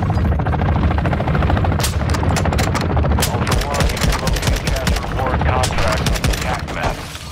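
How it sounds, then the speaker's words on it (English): Gunfire bursts and a helicopter's rotor drone in a Warzone 2 match, loud and continuous, with rapid repeated shots layered over the steady chopping hum. "Yeah, there's a helicopter outside."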